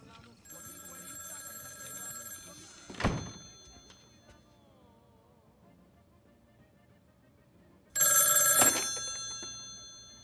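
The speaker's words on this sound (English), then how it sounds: "The first 5 minutes of the movie is the phone ringing" An old-style telephone in the horror film Bug rings with bright electronic bursts, one near the start and another louder ring near the end, with a thump and a quiet room between them.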